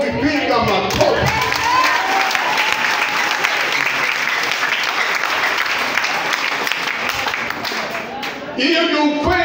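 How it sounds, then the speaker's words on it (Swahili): Church congregation clapping with some cheering, a long steady round of applause with voices mixed in that dips briefly before surging again at the end. "piga makofi"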